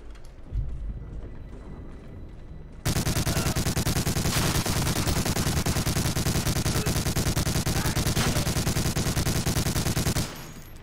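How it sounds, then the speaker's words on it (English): A German MG42 machine gun fires in Medal of Honor: Allied Assault, a long, loud, unbroken burst of rapid shots lasting about eight seconds after a quieter stretch of game ambience. "get into this MG42"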